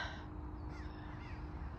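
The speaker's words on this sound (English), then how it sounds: "Hello, bird. Canadian goose." A Canada goose calls with a couple of faint, distant honks over a low, steady background rumble.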